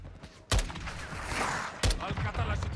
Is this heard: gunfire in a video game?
yes